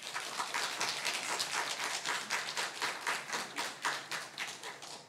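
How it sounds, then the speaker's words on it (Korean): Church congregation clapping to welcome a missionary speaker to the front at a Korean Sunday worship service, with a steady rhythmic patter of many hands that carries on evenly throughout. "나오실 때 박수로 환영하겠습니다."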